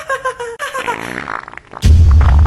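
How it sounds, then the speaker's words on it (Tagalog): A loud, low, buzzing fart erupts after a brief exchange of voices, sustained and close. "Umutot ka ba?"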